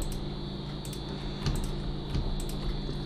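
A computer keyboard shortcut pressed along with a mouse click, a few soft close key taps and clicks over a steady room hum, no talking.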